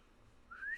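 A person whistles one short rising note near the end, thin and fairly quiet, following a near-silent stretch; it is a brief attempt at a cheerful tune rather than a full melody.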